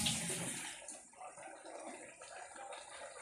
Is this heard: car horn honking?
no